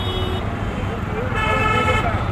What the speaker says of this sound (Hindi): ये ट्रैफिक काफ़ी है गाइस यहाँ पे